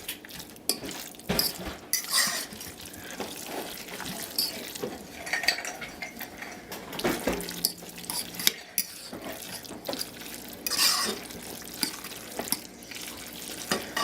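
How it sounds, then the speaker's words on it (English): A fork scraping and stirring against the bottom of a pot of hamburger mac and cheese, with repeated metallic scrapes, clinks and wet stirring at close range. "It's the fork scraping against the bottom"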